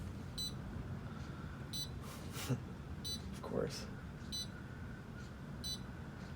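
A kiln controller alarm chirps in short repeated bursts at an even pace over a steady hum, while a voice speaks briefly.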